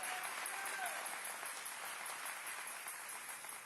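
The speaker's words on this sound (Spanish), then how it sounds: "Denle ese aplauso al Rey." A church congregation applauds during a bilingual Spanish and English service, a steady, moderately loud patter of clapping that fills the room, with no clear speech over it.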